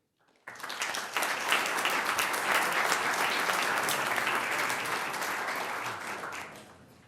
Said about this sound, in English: Another round of applause for all of them, please